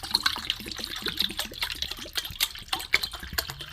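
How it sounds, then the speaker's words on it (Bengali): Water is poured into a bowl of soaking rice, giving an uneven splashing trickle with small bubbly plinks throughout, close and moderately quiet. "বাটির মধ্যে আমি জল দেব।"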